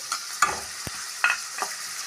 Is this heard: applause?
no